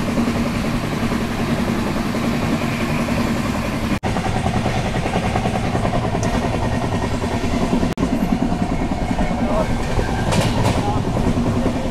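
Inside a sleeper-class carriage of the Rani Chennamma Express from Bengaluru to Sangli, a steady moderate rumble of the moving train with faint rattling and two sharp clicks along the way.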